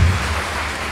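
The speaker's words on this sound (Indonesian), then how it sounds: "Tepuk tangan dulu yang meriah." Audience applause at an arisan social gathering comes as a brief, dense burst of clapping.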